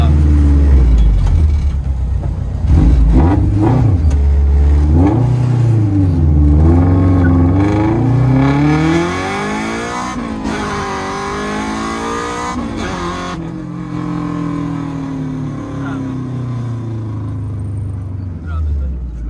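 A Honda Civic EG engine revs loudly through a center exit exhaust, the pitch sweeping up and down in repeated pulls before settling to a lower drone, close by with voices talking over it.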